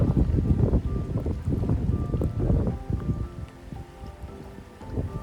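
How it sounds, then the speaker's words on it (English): Strong wind gusting over Lake Okeechobee from a fishing boat, a loud, continuous rumbling buffet with rising and falling gusts close to the microphone, no voices. "the wind started picking up again, and because we went around the corner and it was really blowing"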